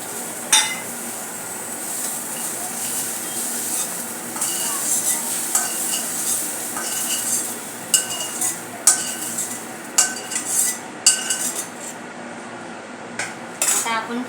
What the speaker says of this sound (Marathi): आपण फोडणी तयार करत आहोत